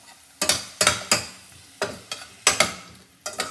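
A spatula scrapes and stirs green chillies and tomatoes frying in a pan for a Nellore-style shrimp and taro root curry, giving about eight sharp, rhythmic strokes over a faint sizzle.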